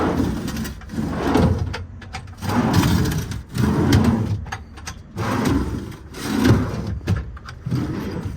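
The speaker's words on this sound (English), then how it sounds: "All slide nicely. The ball bearings feel good in all of them." Metal tool drawers on ball-bearing slides in a 2016 Ford F550 mechanics truck open and shut several times in a steady rhythm, each a smooth rolling rumble, close and fairly loud with no talking.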